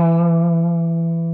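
A sustained electric guitar note rings out through a Tonex amp modeler with spring reverb set to the fourth spring type, a full harmonic tone that decays slowly and smoothly with no voices.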